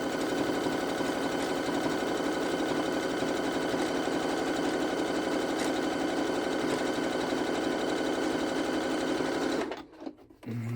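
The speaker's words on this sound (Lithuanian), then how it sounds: "pabandom su šitą kojelę dar pasiūt" A sewing machine stitching knit fabric in zigzag with a thin needle, running as a loud, steady, rapid close whir for about ten seconds before stopping abruptly.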